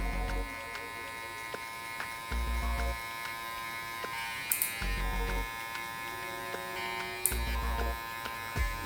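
An electric hair trimmer softens the line while cutting curly hair for a high taper, buzzing in repeated short bursts close up, switching on and off between passes with brief clicks.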